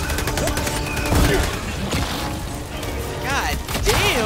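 Rapid bursts of gunfire and booming impacts in the video game Helldivers 2, dense and chaotic, layered with sweeping weapon whines and clattering debris, loud and close, with players shouting over it.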